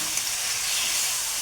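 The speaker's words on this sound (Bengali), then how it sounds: "এখন আমি এটাকে নেড়ে একটু কষিয়ে নিব" Onion leaves and egg curry sizzle in a pan while being stirred and sautéed, a steady, bright frying hiss heard close up with no talking.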